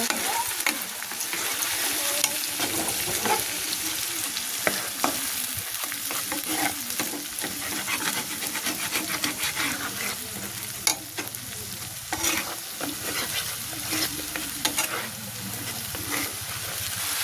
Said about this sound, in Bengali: পেঁয়াজটা যে হালকা ভাজি হয়ে গেছে এখন আমি মশলাটা দিয়ে দেব